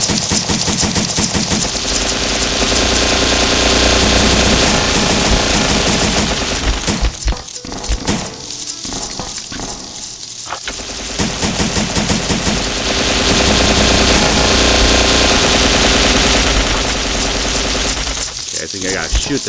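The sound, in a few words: gunfire in Resident Evil Survivor video game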